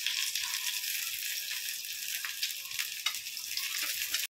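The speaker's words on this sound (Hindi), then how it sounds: "यहाँ पे हमारे अनियन पक रहे हैं" Onions frying in hot oil in a kadai, a continuous bright sizzle with occasional crackles and faint stirring sounds, close and steady with no speech.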